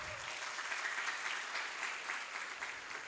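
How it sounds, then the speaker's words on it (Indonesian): An audience claps at a lecture about Al-Azhar, a steady dense applause from many hands that stays fairly even and moderately loud from start to finish, with no clear speech over it. "Tepuk tangan untuk Anda semua."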